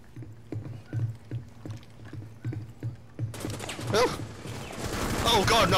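Gunfire in Rainbow Six Siege played in a realistic mode: a steady run of muffled, rhythmic thumps, then louder bursts of rapid shots with clattering and ricochets as the action picks up.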